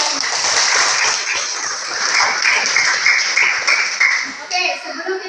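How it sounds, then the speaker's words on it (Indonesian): A classroom of students claps together in a school arts lesson, a bright, busy patter of hands that continues steadily, with children's voices mixed in near the end. "Tepuk tangan dulu untuk kita"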